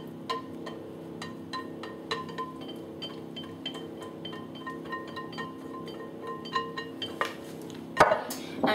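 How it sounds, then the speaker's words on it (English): A spatula scraping cheesecake mixture out of a bowl into a blind-baked pastry base, giving a string of light, close clinks and scrapes of utensil on bowl that grow louder near the end. "Just gonna scrape it all out."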